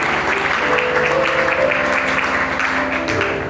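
A church congregation claps loudly and steadily for several seconds, a dense, even wash of applause with sustained musical tones underneath.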